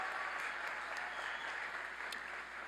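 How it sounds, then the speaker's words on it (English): Commencement audience applauding cum laude graduates at a spring university ceremony: dense, steady clapping from a large crowd, heard from a distance at an even level. "a big round of applause for all of these high-achieving students"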